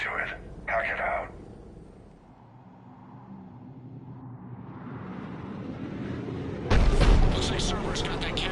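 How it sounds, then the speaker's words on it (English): In the video game Mass Effect 3, a Cerberus cannon fires: a deep rumbling barrage builds under game voices, then a loud, harsh burst of firing erupts near the end and continues. "Looks like Cerberus got that cannon operational"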